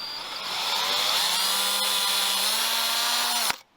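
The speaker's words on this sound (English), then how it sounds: "So I'm just putting my drill bit into my pre-marked dot." Small power drill with a 1mm bit boring through a metal jewelry casting, a high whirring buzz that spins up, holds steady as the bit cuts, then cuts off abruptly at the end.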